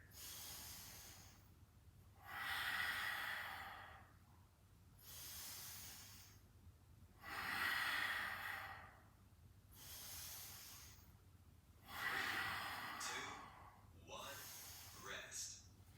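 A person exhales hard during a cycling circuit workout: three long, breathy bursts, each about two seconds, spaced at an even rhythm with quieter pauses between, close and moderately loud.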